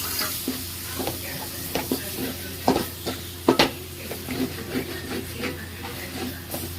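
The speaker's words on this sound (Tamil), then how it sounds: "அதை கொஞ்சம் வதக்கிடணும் கொஞ்சம் வதங்கையும் அப்படியே தக்காளி தூக்கி போட்டுருவோம்" Tomatoes sauté in a pan for turkey gravy with a soft, fairly close sizzle. Irregular stirring scrapes and taps punctuate it.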